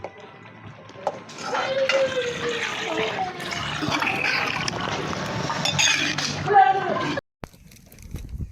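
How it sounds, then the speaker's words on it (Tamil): Water pours steadily from a vessel into a pot of chicken curry for several seconds, a close, continuous splashing gush that ends suddenly, followed by faint kitchen clatter. "இப்போ வந்து குழம்புக்கு தண்ணி ஊற்றிக்கலாம்."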